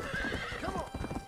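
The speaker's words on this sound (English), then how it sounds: "Alright, relax, relax, fucking horse." Horse in the Red Dead Redemption video game whinnying over clip-clopping hooves, a short close neigh riding on rhythmic hoof thuds, loud and without speech.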